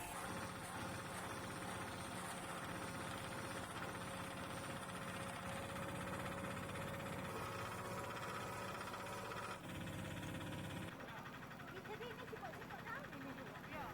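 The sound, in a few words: machine processing pineapple leaves into fibre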